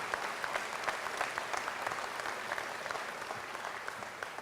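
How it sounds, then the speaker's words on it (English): A roomful of people at a city address applauding, a steady, even wash of clapping held at a moderate distance with little else over it. "Let's give them a round of applause."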